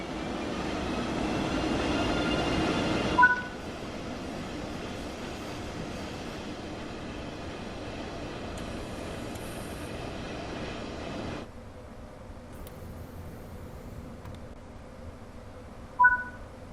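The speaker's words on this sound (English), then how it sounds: "your train has arrived" A simulated train arrives and runs on the Kassel–Würzburg high-speed line in Train Sim World 3 on PS5: a steady low rumble of rolling stock, two brief chime-like tones, and a quieter, softer running noise later on.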